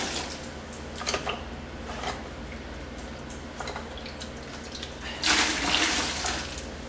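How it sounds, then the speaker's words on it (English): Water is sponged out of the bottom of a dishwasher during repair, soft sloshing, dripping and squeezing sounds at close range, with a louder splash of wrung-out water near the end. "I'm just going to take a sponge and start getting all this water out of here."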